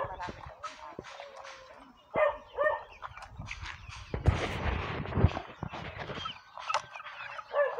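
Several dogs bark and yip in scattered bursts, some close and loud, with whimpers and people talking faintly in between.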